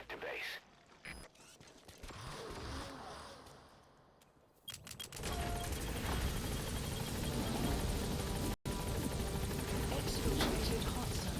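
A helicopter arrives when called in the video game Metal Gear Solid V: The Phantom Pain, its steady rotor roar swelling in and holding loud after quieter mechanical clicks and clatter.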